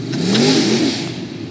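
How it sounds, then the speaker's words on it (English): A car engine labours at low RPM in too high a gear, a close, loud, deep droning strain that rises slightly and then holds. "I think he's got it in too high of a gear and it's loading up. That low RPM."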